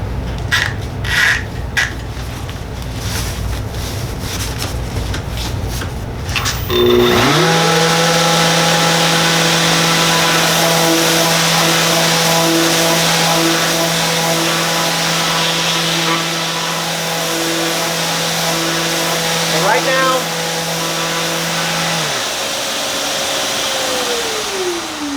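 A shop vacuum fitted with an Oneida Dust Deputy cyclone separator starts up after a rough rumble and runs with a loud, steady motor drone and whine for about fifteen seconds before winding down.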